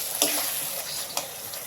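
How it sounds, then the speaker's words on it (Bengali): Chopped tomatoes frying in spice masala for a sole fish curry, giving a steady close sizzle with a couple of sharp stirring scrapes and no voices. "টমেটোগুলো মশলার মধ্যে ভালো করে কষিয়ে নেব"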